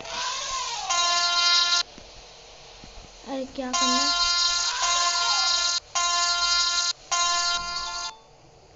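A train horn in an Indian train simulator game sounds in several long, loud blasts, with a short pause and a brief spoken remark between the first two.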